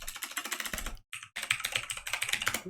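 Quick, close keystrokes on a computer keyboard as a database command is typed in, a dense run of clicks broken by a short pause about a second in, then resuming at the same steady pace.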